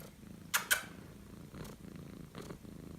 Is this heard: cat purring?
yes